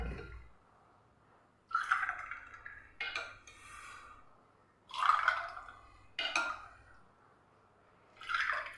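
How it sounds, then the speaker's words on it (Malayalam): A raw mango drink is poured over ice cubes into glasses in several separate bursts, each a short liquid splash and trickle, close and fairly quiet with pauses between pours. "ഇനി നമുക്കിതിലേക്ക് ഈ ഒരു ഡ്രിങ്ക് ഒഴിച്ചു കൊടുക്കാം"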